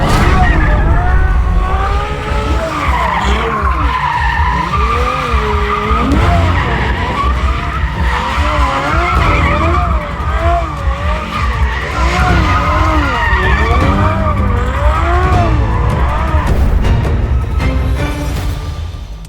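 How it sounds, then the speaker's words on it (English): A Ferrari 812 Superfast skids and slides on a desert road, with loud, continuous tire squeal and warbling, wavering tones over a steady engine roar that persists throughout before fading slightly at the end. "You make one mistake and slide off the road."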